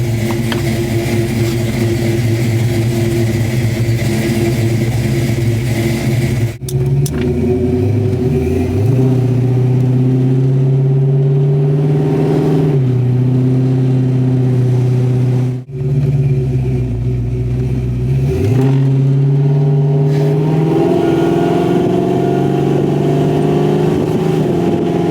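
Modified car accelerates hard down a road during a Dragy timing run, engine climbing loudly through several gears with audible shift breaks, heard from inside the car with no talking.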